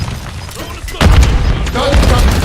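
A stun grenade detonates in a video game: one loud, heavy boom that bursts in suddenly and leaves a dense, rumbling wash that holds for the rest of the moment.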